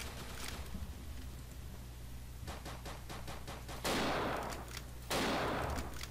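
Gunfire in the dinosaur shooter Dino D-Day: a rapid string of shots from about 2.5 to 3.8 seconds over steady game background noise, then two loud, broad bursts of noise that follow.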